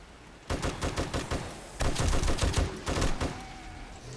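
Bursts of M60 machine gun fire in a zombie-survival video game come in three rapid strings of shots, moderately loud, with short pauses between them and no speech.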